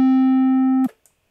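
A triangle wave from a VCV Rack software synthesizer oscillator holds a steady, mellow pitched tone, loud and with nothing else over it, then stops abruptly and leaves a faint click.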